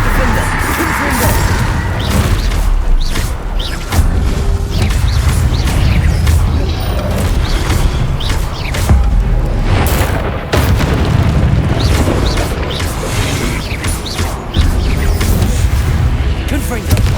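Loud, booming explosions from Confringo spells in the Hogwarts Legacy video game, a dense, continuous barrage of blasts and crashes with sharp impacts throughout.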